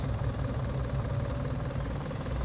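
Steady low engine drone of a tractor in the farming game Farming Simulator 2019, a continuous idling rumble with exhaust hum, moderately quiet and unbroken, no talking.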